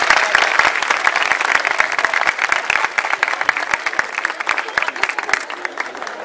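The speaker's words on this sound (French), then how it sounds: "je demande à tous les présents d'applaudir nos étudiants, nos futurs diplômés pour leurs efforts" Audience members at a university graduation ceremony clap steadily for the graduating students, with many sharp individual claps standing out from a sustained wash of applause and a few voices murmuring underneath.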